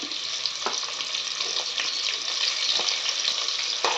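Chopped onions and green chillies fry in a pan for a paneer vegetable biryani, giving a loud, continuous hissing sizzle broken by scattered sharp crackles and pops.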